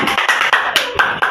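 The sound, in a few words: applause for Carla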